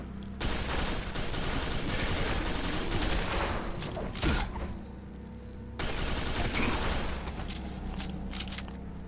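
Rapid rifle fire in modded Quake 4, dense sustained bursts of shots with a brief pause before another long volley, loud and close.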